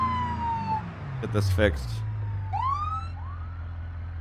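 A police siren in the racing game BeamMP sweeps past quickly, its wailing tone rising and falling with a brief burst of nearby engine noise, while a player talks over the game sound.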